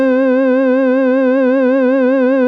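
A bright, buzzy synth lead holds one sustained note while a pitch LFO wobbles it quickly and evenly up and down, loud and alone.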